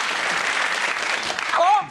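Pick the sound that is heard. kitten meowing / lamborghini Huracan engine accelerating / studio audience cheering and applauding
studio audience cheering and applauding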